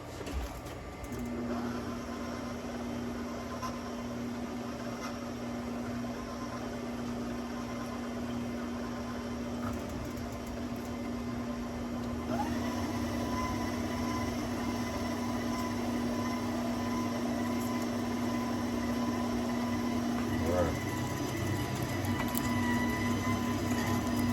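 An electric meat grinder works through fatty burger meat, its motor giving a steady droning hum with a sustained tonal whine that shifts slightly partway through, with no talking over it.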